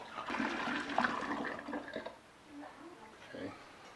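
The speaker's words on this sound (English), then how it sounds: "Now I got to add that to my carboy now. So I put my sanitized funnel in already to help me funnel this in." Dissolved hard apple cider mixture gushes through a sanitized funnel into a carboy, a loud steady pour for about two seconds that thins to softer trickles and gurgles.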